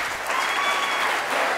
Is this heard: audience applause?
yes